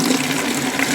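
Water runs steadily from a tap in a close, continuous hiss, filling water for chickens on a snowy morning.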